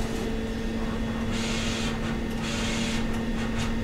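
A digital printer running on a custom textured substrate, giving a steady mechanical hum with a constant tone and brief whooshing passes of the print carriage, close and continuous with no talking.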